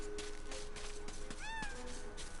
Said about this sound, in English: there are cats here